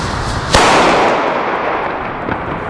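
A German Böller firecracker explodes outdoors in a single sharp, very loud bang that cracks close by and tails off into a rumbling echo, followed by a faint second pop.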